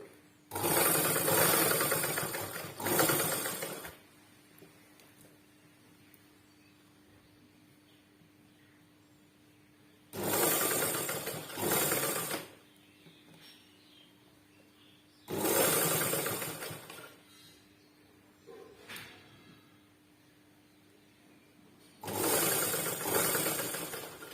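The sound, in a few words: sewing machine stitching a sleeve onto a dress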